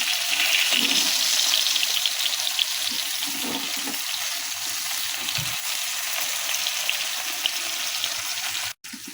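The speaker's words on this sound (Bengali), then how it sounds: "এপাশ ওপাশ করে আমি মাছগুলো ভেজে তুলে নেব" Prawns fry in a pan with a steady, close hiss of bubbling oil that runs evenly throughout and cuts off abruptly near the end, with no talking.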